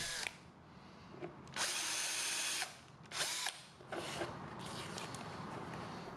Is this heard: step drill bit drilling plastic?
yes